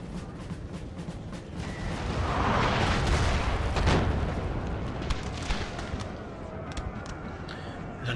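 A musket volley from a line of infantry in the Napoleonic battle game Napoleon: Total War, heard as a rolling crackle of many shots that swells and fades over several seconds amid general battle noise.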